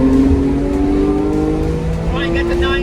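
Porsche 911 GT3 with a manual gearbox revving hard and accelerating toward 9000 rpm, a loud steady engine drone with a rising pitch close up, overlapping someone talking.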